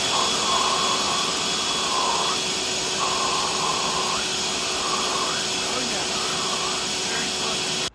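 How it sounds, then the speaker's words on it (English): EGO and Ryobi cordless leaf blowers roar steadily at close range, aimed at a person's face, with a constant broadband rush that stays loud throughout and slight dips as the airflow shifts. "We are gonna measure which one of these blowers makes my face flap the most."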